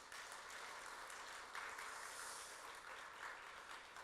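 Faint, distant congregation applause during a church service, dense and steady for several seconds as youth department teachers stand to be recognized.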